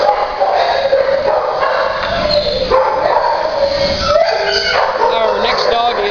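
A dog barks in short yips and woofs against a steady background hum, mid-distance and fairly loud, with no talking.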